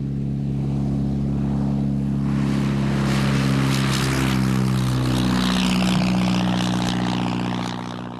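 Propeller aircraft flying, a 62-year-old plane registered ZK-AEK, its engine droning loudly with strong steady harmonic tones that swell and shift in pitch as it passes, no voices.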